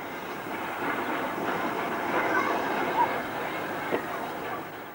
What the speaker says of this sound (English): A crew-based Royal Scot number 46166 London Rifle Brigade backs empty coaches out of the station towards the carriage sidings.